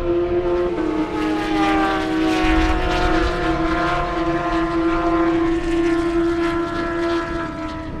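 Kawasaki Ninja ZX-10R motorcycles race on an airstrip in Marion, Indiana, their engines roaring in a loud, sustained high-revving tone as they accelerate past.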